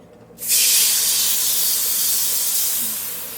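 Milk poured into roasted flour (maida) in a hot pan sets off a sudden loud, steady hiss that starts abruptly and holds strong before easing slightly toward the end, with no voices.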